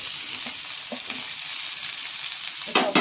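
Cabbage, capsicum and tomato fry lightly in a pan, a steady close sizzle with a few soft stirring scrapes and a brief louder flare near the end.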